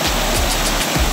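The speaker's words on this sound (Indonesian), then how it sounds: "ada batu dan air yang deras mengalir ke bawah" Rushing water pouring down a multi-tier waterfall over rocks, a loud, dense and continuous roar with brief low thumps beneath it.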